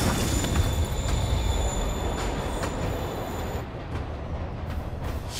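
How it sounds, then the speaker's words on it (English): A train pulls away from a station platform in Marvel's Spider-Man Remastered, a loud steady rumble of rolling cars with high squealing wheel tones that drop out partway through, no talking. "Train moving. Lee's getting away."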